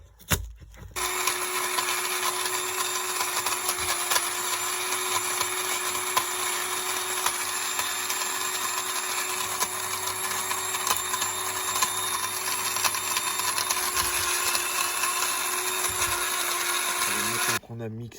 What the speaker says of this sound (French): Alors maintenant qu'on a transvasé dans le mixeur, c'est parti. On va broyer tout ça.